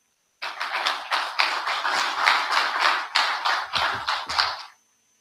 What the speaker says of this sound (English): Thank you very much for the kind applause.